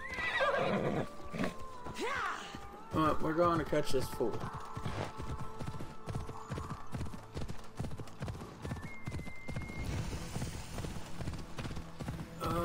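Horse in Assassin's Creed Odyssey neighs loudly, then hooves clip-clop in a quick galloping rhythm, with battle clatter and someone talking over parts of it.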